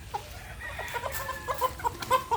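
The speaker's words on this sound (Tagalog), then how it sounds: "Malaki siyang manok." A large native chicken clucks several times in short, nasal bursts, close by, over a low background murmur.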